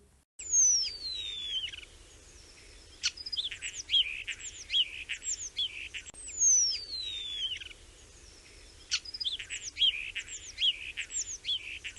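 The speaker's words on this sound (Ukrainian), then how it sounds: "це спів належить шпаку, адже він майстер співу." A starling sings a varied, whistling song of swooping notes and chirps, repeating in phrases over a steady low hum, fairly close.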